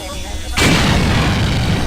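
Armor-piercing rounds fired at a robot in System Shock 2: after a quiet half second, a loud sustained burst of gunfire erupts and roars on continuously, dense and close, filling the rest of the moment.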